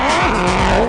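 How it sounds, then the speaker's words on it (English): Ford Ranger race truck at the Ottosdal 200 off-road race, its exhaust note a loud, close, steady engine drone with shifting pitch, heard alone for about a second. "Brilliant note coming out of the exhaust on that Ford Ranger."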